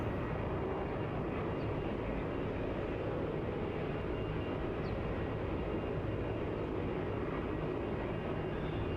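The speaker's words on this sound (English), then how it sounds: "The A320-300 there taxiing out on the prowl, on the move." An Airbus A320-300 airliner taxiing at Melbourne Airport, heard as a continuous, fairly faint low engine rumble and broadband roar that holds steady without change.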